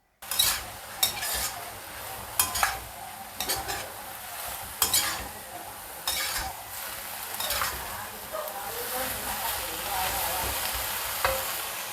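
Food frying in a pan with very little oil hisses steadily while a utensil scrapes and stirs, giving repeated sharp clatters and scrapes against the pan, close and fairly loud throughout.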